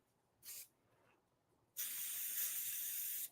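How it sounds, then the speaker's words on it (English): A short hiss of Pro Spray aerosol adhesive, a pause, then a longer steady spray burst lasting over a second, close and fairly loud. "So we're going to use some Pro Spray."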